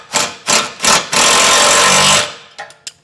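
A power impact tool tightening bolts on a trailer hitch receiver under a 2021 Chrysler Pacifica, firing three short loud bursts and then one long sustained run before a few light metallic clinks.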